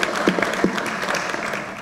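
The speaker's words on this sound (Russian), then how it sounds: "Публика приветствовала их, а также капитана сборной Диаса Доскараева овациями." A crowd at a Davis Cup tennis tie in Astana gives the Kazakhstan team and captain a sustained ovation, dense clapping rolling steadily and loudly from start to end.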